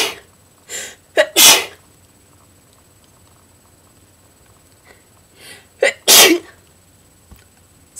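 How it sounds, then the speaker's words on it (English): Two sharp sneezes, each with a quick intake before, the second about five seconds after the first, close and loud against quiet background. "and I have to sneeze."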